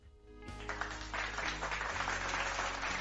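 An applause sound effect, a burst of crowd clapping that starts suddenly after a brief quiet moment and then continues as a dense, fairly faint patter.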